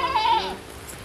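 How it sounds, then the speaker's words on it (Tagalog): A single goat bleats once, a short wavering call that is close and clear, fading into faint background noise. "Dala niyang kambing mga kaidol."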